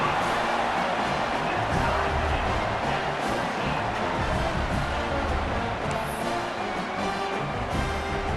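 A college football video game stadium crowd in a Florida dynasty keeps up a steady, broad roar of cheering, dense and unbroken from start to finish, with no distinct voice standing out.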